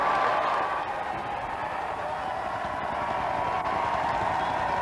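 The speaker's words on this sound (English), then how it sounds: "And a big crowd surging across Whitehall to his car, with the police trying to hold them back" A large, dense crowd cheers and roars steadily on Whitehall as Tony Blair arrives at Downing Street in 1997, a loud continuous wash of voices and scattered applause with no pauses.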